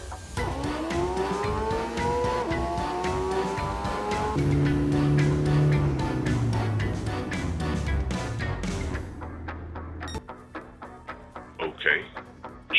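A race car in a Gran Turismo 7 license test accelerates hard through the gears, its engine note climbing in rising sweeps, then brakes to a stop with a brief tire squeal while a voice talks over it.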